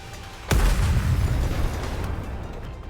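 Missile explosions in the video game Nikke x Stellar Blade: one sudden heavy boom, then a rumbling low roar that slowly fades.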